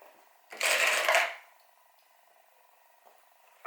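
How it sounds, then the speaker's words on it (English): A sewing machine runs a short burst of stitching along a quarter-inch seam of a fabric sling bag, whirring for under a second, then going quiet apart from a faint background hum. "Now, we will be stitching"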